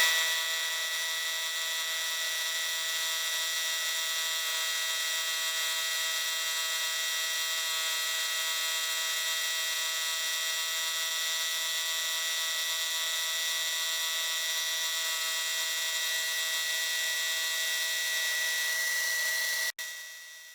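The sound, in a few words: milling roughing cut with single toothed fly cutter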